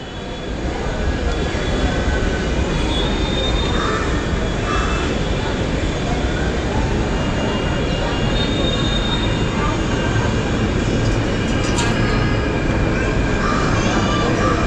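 A crowded metro train runs through a long sweeping curve near Ghatkopar, a steady loud rumble of wheels on rail with faint squeals, heard from on board or close by for the whole stretch.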